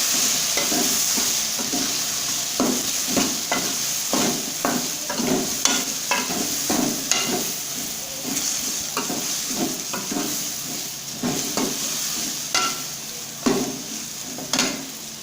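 Tomatoes cooking with red chilli, turmeric and salt for a bitter gourd dal dish, stirred repeatedly with rhythmic scraping and clinking against the pot over a continuous sizzle.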